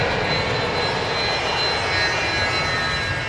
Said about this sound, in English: He's swinging right onto the runway. He's cleared to take off. He's spooling it up.